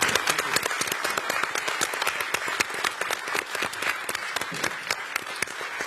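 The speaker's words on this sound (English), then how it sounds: "I was clapping." Applause from an audience at a mayor's public forum on city safety, a dense steady clapping that fills the whole stretch without letting up, with no voices rising above it.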